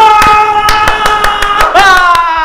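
Hands clap in a quick, loud, close series of about ten sharp claps at a steady rhythm, with a brief voice sounding partway through.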